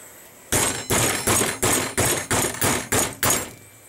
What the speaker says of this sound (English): use a bigger hammer.